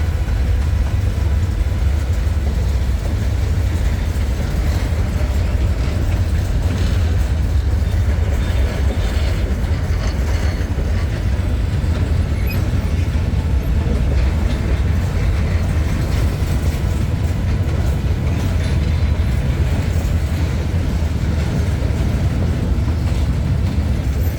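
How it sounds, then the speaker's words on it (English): A long freight train of fuel tankers passes on the main line, a loud, continuous low rumble with rail clatter that holds steady throughout as the wagons roll by close at hand. "let these freight trains go through"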